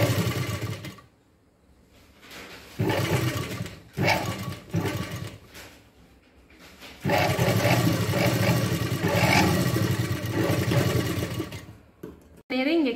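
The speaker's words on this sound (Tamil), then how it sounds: "மடிச்சுட்டு இப்போ இந்த நேரம் ஒரு தையல்" A sewing machine stitches a size 44 blouse in several runs of varying length, starting and stopping between pauses, close and loud, with a person talking in between.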